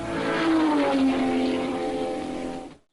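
A car engine, of Italian design, on a Sunday morning drive in Texas, drones steadily and loudly with a gently shifting pitch as it accelerates, then cuts off abruptly at the end.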